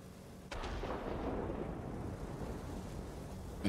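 A World of Warplanes fighter fires its guns, a sudden onset into a dense, sustained rumbling burst of rapid gunfire that holds steady for a few seconds, moderately faint, with no speech.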